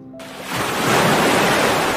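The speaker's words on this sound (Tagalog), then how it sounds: "Ibinalik ang malay niya ng malamig na tubig na ibinuhos sa kanyang mukha." Cold water poured onto a man's face, a sudden loud rushing splash that swells in and keeps hissing steadily, close and alone, in a Tagalog horror story.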